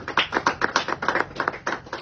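A church congregation applauds for Jesus, with many hands clapping at a brisk, fairly regular rhythm that stays loud and even throughout.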